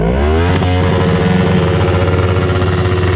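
A motorcycle engine revs hard and loud at close range during a noise measurement at a motorcycle club rally in Łochów, Poland, its harsh roar rising briefly then holding at a high, steady growl throughout.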